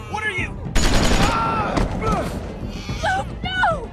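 Gunfire in The Walking Dead video game, a sudden loud burst of shots followed by sustained crackling, with game characters shouting and talking before and after.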